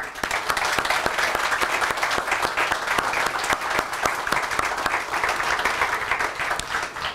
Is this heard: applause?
yes